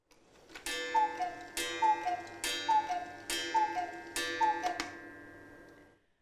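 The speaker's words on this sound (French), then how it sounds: "Ça veut dire que c'est une horloge de 8 jours." A hand-carved eight-day clock with two large weights and oak-leaf carving ticks steadily, each loud tick-tock ringing with a bright metallic resonance that slowly fades after the last beats, no voices present.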